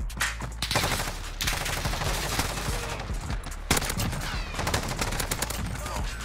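Rapid bursts of AN-94 rifle fire in a Modern Warfare match, loud and close, with dense overlapping shots and brief pauses between volleys.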